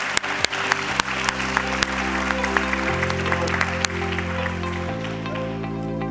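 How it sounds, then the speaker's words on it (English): Conference audience at a port-cooperation session breaks into sustained applause, dense steady clapping with a few sharp individual claps standing out, over a low sustained tonal background. "So I think that a round of applause is all due."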